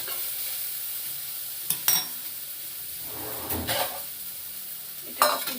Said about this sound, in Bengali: এটা হালকা সতে হয়ে গেছে